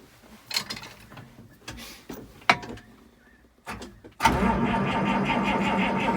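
A 1955 White truck engine cranks on the key with several uneven starter bursts and clunks, then catches into a loud, steady running roar close by.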